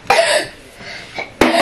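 Two sharp coughs, one at the start and another about a second later, close and fairly loud, with a faint breathy sound between them.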